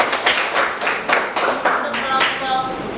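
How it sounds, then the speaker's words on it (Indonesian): Applause in a classroom, a small group clapping in a loose, uneven rhythm at close range, the claps bunching into bursts for a few seconds. "Kita kasih tepuk tangan dulu."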